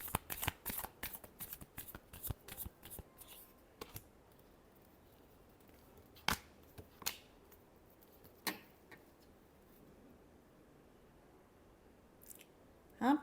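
Tarot cards are shuffled close by in a quick flurry of crisp riffling clicks at the start, followed by a few sparse, faint taps and snaps over near silence.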